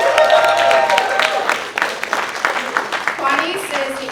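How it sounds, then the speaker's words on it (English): Audience applause at an arts advocates award ceremony for a museum's tenth anniversary symposium, a steady wash of clapping that fades and thins toward the end, with voices mixed in. "we're just gonna clap it up for her"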